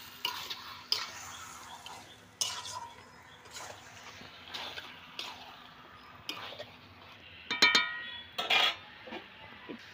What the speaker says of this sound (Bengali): বারবার করে নাড়তে হবে